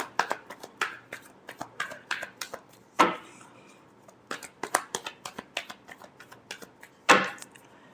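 Tarot deck being shuffled by hand during a reading, a close series of crisp riffling flicks and card taps in irregular bursts, with a few louder slaps, no voices.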